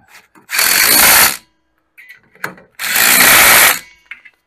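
A pneumatic impact gun tightens a nut on the front beam of a classic VW Beetle, firing two loud, sustained rattling bursts of about a second each, with short mechanical clicks and handling noises in the gaps between them.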